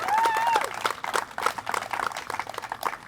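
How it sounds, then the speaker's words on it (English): Audience applause at an outdoor Main Street press conference in Indianola, Iowa: a steady wash of clapping from a crowd, fairly loud and continuous, with a brief whistle-like tone near the start. "I think I'll continue to pause for applause"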